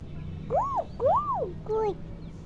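A voice imitates a dog with three high, arching yelps, close and clear, over a low steady background hum.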